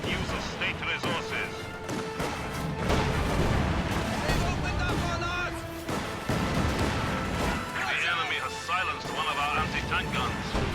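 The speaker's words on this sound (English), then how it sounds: "Tank guns." Tank guns firing in a strategy war video game, heavy booming blasts and crashes punctuating a dense, noisy battle soundscape, with bursts of gunfire and rumbling explosions spread across the stretch.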